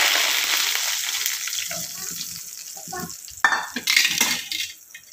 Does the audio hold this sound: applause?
no